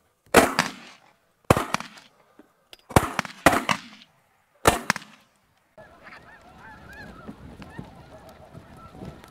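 About five loud, sharp shotgun blasts ring out in quick succession during a goose hunt, each with a short echoing decay, followed by a steady chorus of geese honking nearby.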